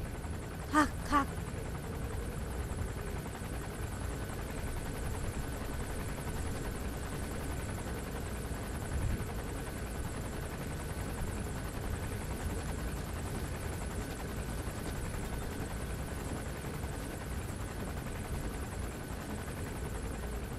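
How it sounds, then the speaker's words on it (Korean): Helicopter approaching in the video game Metal Gear Solid V: The Phantom Pain, a steady distant rotor drone running throughout, with a couple of brief sharp clicks near the start. "헬기 온다."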